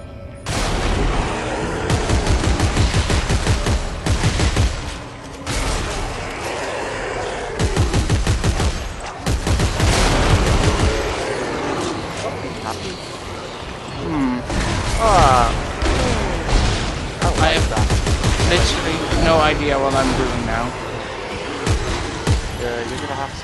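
Gunfire in the Dead Space 3 video game, repeated loud, rapid bursts of shots filling most of the stretch, mixed with heavy impacts, in-game noise and people talking over it.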